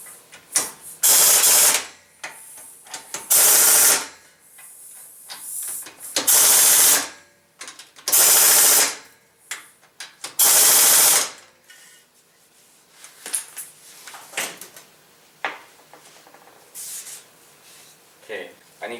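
Air impact wrench at low pressure snugging wheel nuts on a 4th generation Firebird Trans Am fitted with C6 Corvette wheels: five loud, close bursts of a second or so each, separated by pauses, followed by softer clicks and handling noise.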